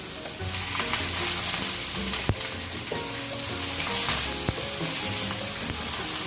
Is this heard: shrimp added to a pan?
yes